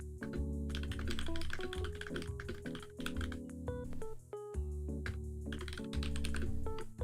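Fast, continuous typing on a computer keyboard, close and crisp, with irregular clusters of key clicks running the whole time over soft background music.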